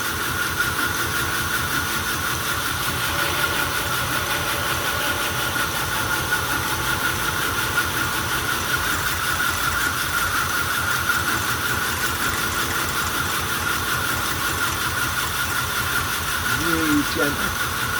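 A belt grinder with a fine 400-grit belt sharpens the bevel of a 60-year-old Queen gamekeeper knife freehand, a loud, unbroken motor drone with abrasive hiss that holds steady for about eighteen seconds.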